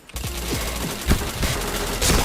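Rapid automatic gunfire in the shooter game Point Blank rattles in quick bursts, loud and close, with sharp repeated shots and no voices over it.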